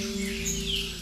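A pair of tiê-sangue birds in a spacious aviary gives brief high chirps over a steady low tonal hum, the whole sound lasting only about a second.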